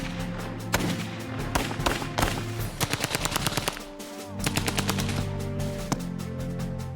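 Machine-gun and rifle fire from captured German WWII weapons crackles in rapid bursts and scattered single shots, loud and close, with dense volleys through the first half, a brief lull, then renewed firing.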